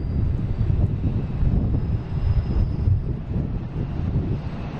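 A deep, continuous jet engine rumble comes from an airliner at Boston Logan International Airport, heavy and steady with wind buffeting the microphone and no voices.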